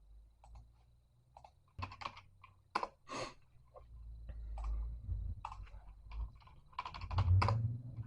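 Keystrokes clatter on a computer keyboard in short irregular bursts, close and fairly quiet, with a low hum underneath.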